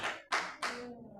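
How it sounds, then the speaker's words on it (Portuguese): A church congregation claps hands during a teaching and worship service, with three sharp bursts of clapping close together, each fading quickly, in a short loud sequence without speech. "Não pode bater palmas para o Senhor."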